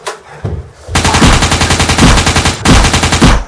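MP5 submachine gun fire comes in loud, rapid automatic bursts, with a brief pause between them, in a real-life zombie game setting.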